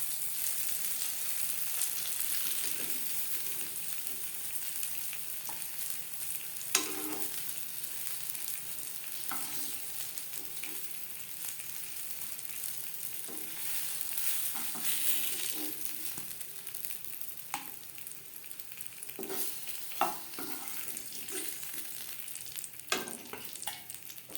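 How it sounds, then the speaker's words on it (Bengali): Eggplant slices frying in oil for begun bhaja, a steady close sizzle with soft crackles and occasional louder pops and utensil taps, no voices. "প্রথম ব্যাচের বেগুন ভেজে নেওয়া হয়ে গেছে এবার আমি পরের ব্যাচের বেগুন ভেজে"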